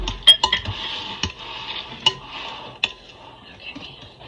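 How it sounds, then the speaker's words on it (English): A spoon stirs chopped graham crackers into thick cookie dough in a bowl, with soft scraping and several sharp clinks against the bowl, close and alone. "I'm going to mix those graham crackers in."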